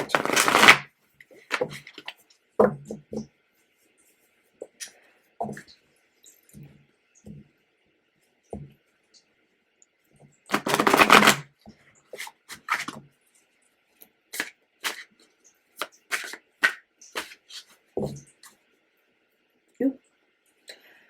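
Tarot cards being shuffled by hand in a series of scattered riffling bursts and soft clicks, close and intermittent, with quiet gaps between the bursts.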